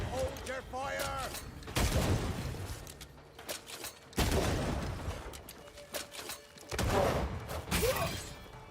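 Gunfire rings out in Banishers: Ghosts of New Eden, a series of loud sharp shots and crashing bursts spread over several seconds, mixed with shouting voices and game dialogue.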